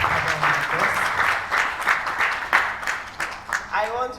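A forum audience applauds its telecoms panel members with a dense, sustained round of clapping, and a voice comes in over the applause near the end.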